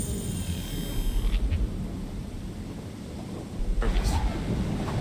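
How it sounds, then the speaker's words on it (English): A thunderstorm in the video game Splinter Cell Chaos Theory: two low rolls of thunder, one early and one late, rise over a constant windy, rainy ambience at moderate loudness. "Thunderstorms make me nervous."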